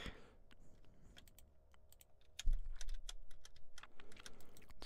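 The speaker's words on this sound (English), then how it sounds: "One of my freaking keys on my keyboard keeps sticking" Computer keyboard with a sticking key, typed in quick irregular bursts of sharp clicks, close and fairly quiet, with a heavier thump partway through.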